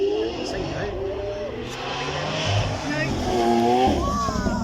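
A Lamborghini Aventador 6.5 litre V12 supercar revs and pulls away on a demonstration run at a supercar weekend, its engine note rising and falling loudly under continuous commentary from someone speaking over it.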